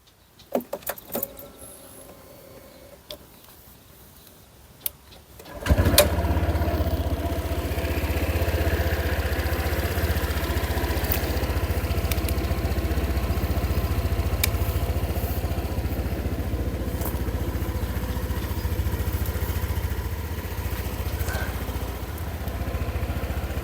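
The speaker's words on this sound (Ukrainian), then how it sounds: "Двигун працює без жодних нарікань." A Honda PCX 150 motor scooter engine starts and then idles steadily with a low, even hum and faint rattling, close by and alone for a long stretch.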